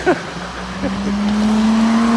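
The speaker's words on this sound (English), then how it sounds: "excuse the traffic" A car passes on a nearby road, its engine note rising into a steady hum as it goes by, with faint road noise throughout.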